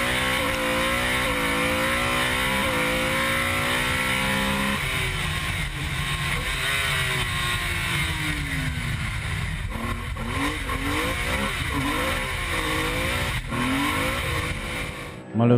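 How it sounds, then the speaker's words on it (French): BMW rear-wheel-drive rally car at a Sezoens Rally stage in 2014, engine revving hard and accelerating loudly through gear changes, close and continuous with a spectator-area wash behind it. "surtout avec une propulsion comme cette BMW"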